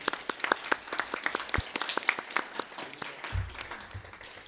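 Applause for a colleague at a municipal council meeting, a small group clapping in a room for a few seconds, moderately loud and fairly close, with a voice and some shuffling near the end.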